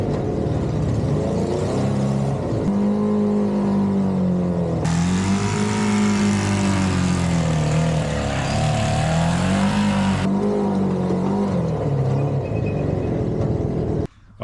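A loud, steady jet boat engine roar with a deep droning tone that rises and falls in pitch, running continuously and close by with a raspy, rough edge from a badly leaking exhaust.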